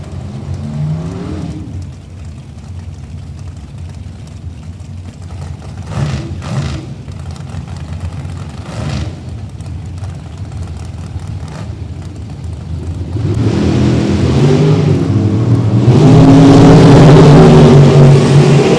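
NHRA drag racing cars launching at a Saturday bracket event, a far engine drone with brief bursts, then a loud roaring launch building to a sustained high-power blare near the end.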